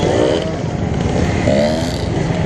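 A dirt bike engine revs loudly and close by, its rough motor tone rising and falling in short surges while ridden near a plant, with no voices over it.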